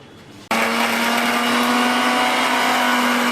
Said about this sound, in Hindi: तो चलिए इसको मिक्सर में कर लेते हैं